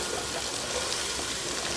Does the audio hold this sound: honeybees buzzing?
no